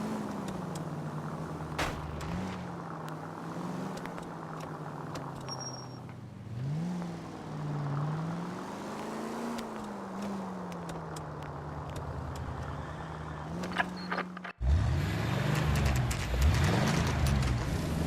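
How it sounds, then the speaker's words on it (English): Cars in an illegal street race in the game L.A. Noire: a steady engine drone with rising and falling revs throughout, then a louder burst of roaring acceleration near the end. "Suspect vehicles engaged in illegal street racing."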